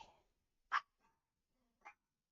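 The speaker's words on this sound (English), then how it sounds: "Nobody wants to listen to you bark." A dog gives two short, sharp barks about a second apart indoors, fairly quiet with silence between them.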